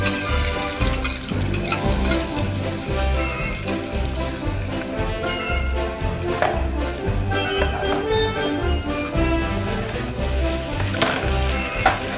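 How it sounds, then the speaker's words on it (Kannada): Carrots and onions fry in a pan for a Kabul chickpea pulao, a steady busy sizzle with soft stirring clinks running continuously at close range, no talk. "ಈರುಳ್ಳಿ, ಇದಷ್ಟು ಫ್ರೈ ಆಗಲಿ."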